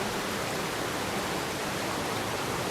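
A smooth-flowing natural stream running along a mountainside in an old-growth forest, a steady, even wash of water that holds at one level throughout with no voices.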